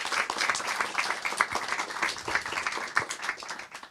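Audience applause greeting a DJ at a workshop during Amsterdam Dance Event 2022, a dense stretch of clapping at a steady level that tapers off slightly at the end.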